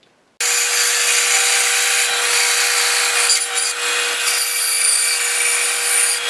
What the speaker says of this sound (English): I cut these freehand and gave them a quick sand on the belt sander